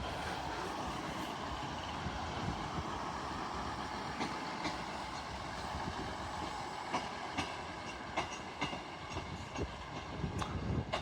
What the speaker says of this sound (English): Arriving in now is the Northern Trains 158 working a terminating service from Hull.